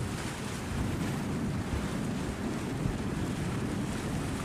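A fishing boat of about 20 to 30 tonnes, loaded with anchovy, comes into a fishing port over the waves, heard as a steady rush of surf and water with heavy wind buffeting the microphone.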